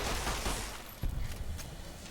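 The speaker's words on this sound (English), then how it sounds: "Let me use my overpowered pistol." Pistol gunshots in Fallout: New Vegas, fighting a mini boss on Lonesome Road: sharp reports amid busy combat noise, one strong shot near the middle followed by smaller cracks, fairly loud, with no talk.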